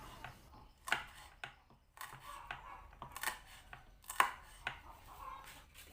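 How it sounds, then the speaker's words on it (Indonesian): Knife chopping candlenuts and red chilies on a board, a series of sharp, close taps in an uneven rhythm, some louder strikes standing out against a quiet kitchen background. "Lalu ini aku gunakan 5 biji cabai merah dipotong juga."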